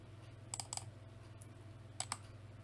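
A computer mouse gives a few faint, crisp clicks in pairs and small clusters over a quiet room hum, with no talking.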